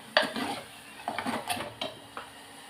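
A spoon scrapes and stirs ground tomato paste in a metal pan, several short sloshing strokes close up with a light clink.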